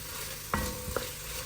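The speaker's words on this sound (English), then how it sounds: "Stir them around and enjoy that sizzling sound." Diced onions for chili sizzle steadily in hot oil, a soft continuous hiss with a couple of brief clinks or stirs breaking through.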